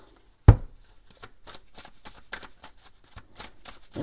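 Tarot cards shuffled by hand for a reading, a sharp thump followed by soft, irregular riffling and sliding card sounds, close up and fairly quiet.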